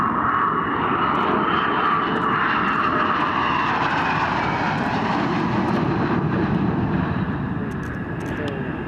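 An F-22 Raptor fighter jet flying, with a loud, sustained engine roar filling the whole stretch and a slowly shifting pitch as it passes, with voices faintly underneath.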